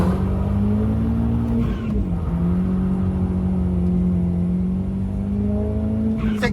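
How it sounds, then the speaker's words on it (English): Tuned ex-police car accelerating hard from 0 to 60 mph, its engine note droning loud and close from inside the cabin, dipping briefly at a gear change and then climbing steadily again. "As promised, let's do a timed 0 to 60."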